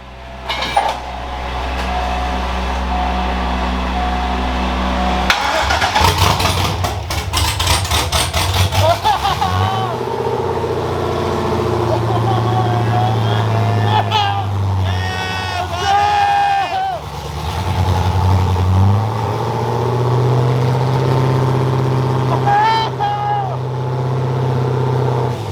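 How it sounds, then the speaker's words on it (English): A rebuilt Chevrolet C5 Corvette engine cranks and fires for its first start, then revs in rough bursts and settles into an uneven idle, with excited voices and cheering over it. "First start up, C5 Corvette."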